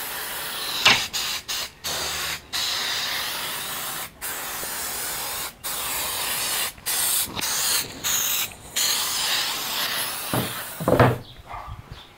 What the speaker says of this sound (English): Spray some mold release.